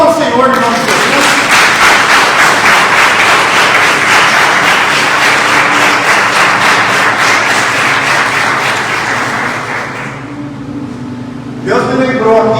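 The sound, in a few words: congregation applause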